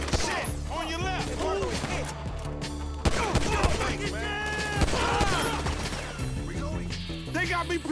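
Gunfire from a gunfight in Grand Theft Auto V, rapid bursts of shots and crashes layered under a loud music track and overlapping shouted voices, busy and continuous.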